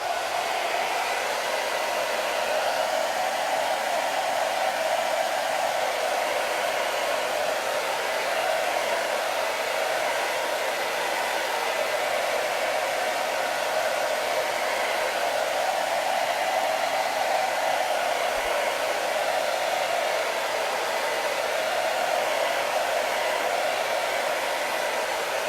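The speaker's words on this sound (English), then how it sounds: "Let me blow dry it a little bit." A hair dryer blows on chalk paint on a reclaimed window, a steady loud whooshing drone held unbroken for the whole stretch, close by with no talking.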